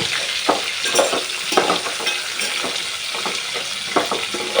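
Sliced green chillies and round-cut onions fry in a pan for a soya chunk pulao, a steady loud crackling sizzle broken by rhythmic scrapes of a stirring spatula, close and without voices.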